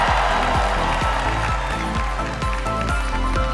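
Audience applause fills a Miss Universe pageant hall, with steady, dense clapping from a large crowd under a pulsing musical backdrop that thumps at a regular beat throughout.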